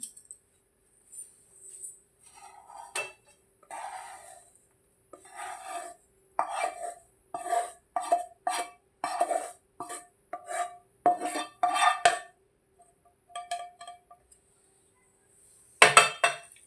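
A sweet is scooped from a pan onto a plate, with repeated close clinks and scrapes of a metal spoon against dishes in short irregular bursts separated by quiet pauses, and a louder clatter near the end.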